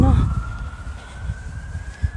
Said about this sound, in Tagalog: May pulis na tumutunog ang